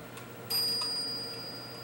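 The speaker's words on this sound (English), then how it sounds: "it's giving us the half hour cup bell" A Gilbert clock strikes its half-hour cup bell once, a clear ringing tone that sustains and slowly fades, heard close and alone.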